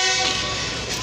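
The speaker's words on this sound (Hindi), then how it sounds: "ये 34 डाउन पार्क बिजनेस एक्सप्रेस का अभी हॉर्न हुआ है" Departure horn of the 34 Down Pak Business Express leaving Lahore station, heard from Kot Lakhpat as a single loud sustained tonal blast.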